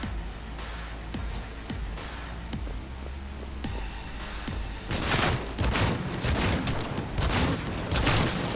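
Gunfire in the video game Cyberpunk 2077, sharp pistol shots crack out at first, then a denser, louder burst of rapid firing and noise takes over in the second half.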